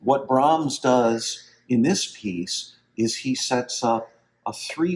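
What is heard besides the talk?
No everyday noises stand out.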